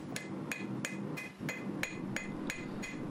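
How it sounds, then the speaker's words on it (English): A hammer forges the bevels on a hunting knife blade, striking in a steady rhythm of about nine sharp metallic blows, each one ringing briefly, over a low background hum. "I'm just forging in the bevels, trying to keep nice, even angled hammer blows along the edge on both sides."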